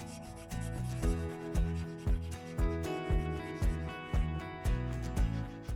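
A steady rhythm of about ten scrubbing strokes rubs rust off a Suburban griddle's metal surface, each stroke a gritty, close rasp at an even pace, with no voices.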